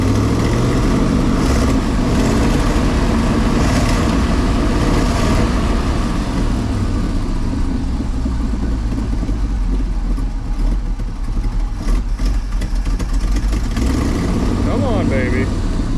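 A 1964 Chevy grain truck engine idles close by, a rough, uneven low rumble with occasional small revs, while someone talks over it.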